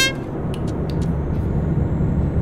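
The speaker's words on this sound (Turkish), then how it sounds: "Baba kornası çalıyor yani böyle." A Godfather-style truck horn in Euro Truck Simulator 2 sounds in short repeated blasts over a steady engine drone, loud and continuous with no talk.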